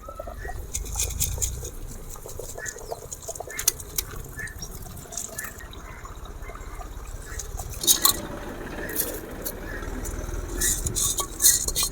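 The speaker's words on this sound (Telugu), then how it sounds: "ముందుగా కడిగి నానబెట్టుకున్న బియ్యాన్ని పోస్తున్నా" Washed, soaked rice is poured into a pot of crab curry for biryani, giving a close, soft patter and wet rustle that grows busier with splashy clicks toward the end.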